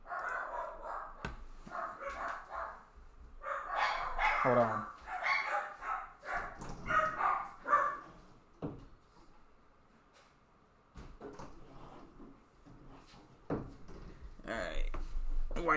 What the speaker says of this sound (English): of course my dog's gonna be barking.